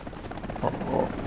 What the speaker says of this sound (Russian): Оп, вертолет.